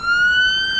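An ambulance siren in a flight simulator game sounds as a loud, steady high tone, close and alone for under a second.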